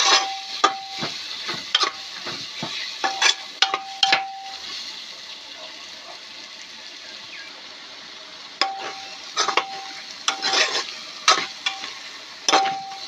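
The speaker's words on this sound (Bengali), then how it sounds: "জিরে, মশলা ভালো করে নাড়া করে মশলাটা কষাই নিন" Cumin and spice masala frying in a pan for khichuri, stirred with repeated sharp scraping strokes over a soft sizzle, with a quiet pause in the middle before stirring resumes.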